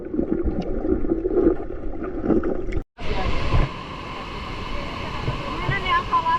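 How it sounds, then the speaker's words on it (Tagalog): Kawasan Falls in Badian, Cebu, roars as a steady rush of water alongside the chatter of people talking nearby, with a brief cut partway before the water noise continues louder. "ug mao kini ang Kawasan Falls"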